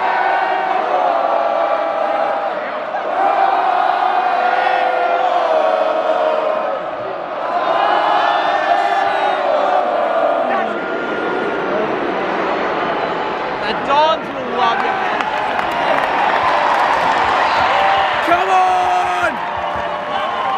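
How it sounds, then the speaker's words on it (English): Collingwood supporters at an AFL semi final against Fremantle, a loud crowd roaring and chanting in waves, with nearby voices shouting and talking over the din throughout. "Gotta cheer now, because then we won't be able to cheer for the rest of the game."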